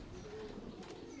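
A pair of Kaldum pigeons in a loft gives soft, faint cooing over a low murmuring background, with a hint of voices nearby.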